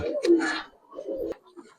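Pigeons, Giribaz silver high-flyers, cooing close by in two soft, throaty bursts separated by a brief pause.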